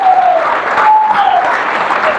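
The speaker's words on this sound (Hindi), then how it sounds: "मैं चाहता हूँ एक बार सत्यवान सर के लिए जोरदार तालियां" An audience at a business leaders' meeting bursts into loud, sustained applause for a speaker, a dense wash of clapping with a faint tonal sound drifting through it.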